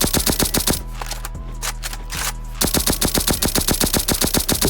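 Assault rifle in the Bad Business shooting game firing in rapid regular bursts with a recoil macro enabled, loud sharp shots in quick succession with a brief pause midway before the rapid fire resumes.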